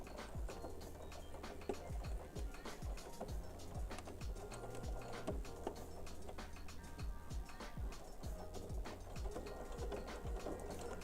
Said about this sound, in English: We're going to stitch very slow because it is multiple layers of fabric.